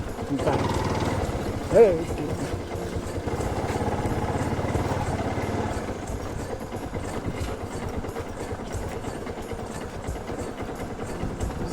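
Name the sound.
motorcycle engine revving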